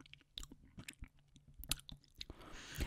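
Close, quiet crunchy bites and chewing of a Fazer Mint Croquette chocolate bar with crunchy pieces, with irregular crackly snaps and mouth clicks and no talking.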